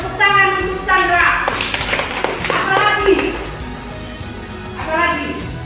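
Children in a classroom give a short burst of rhythmic group clapping mixed with chanting voices, with bright shouts before and after.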